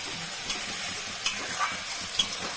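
Cumin seeds and chopped onion fry in hot oil with a steady, close hiss, punctuated by a few faint pops and spatters.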